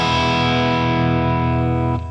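A Les Paul electric guitar with coil-cut pickups rings out one sustained, heavily distorted chord that holds steady before starting to fade near the end, with no voices.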